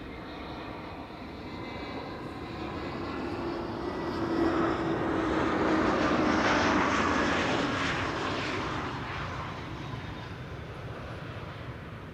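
An ITA Airways A320neo on flight 108 from Rome comes in to land at Amsterdam Schiphol, its engine roar building steadily to a broad peak, then fading as the jet passes.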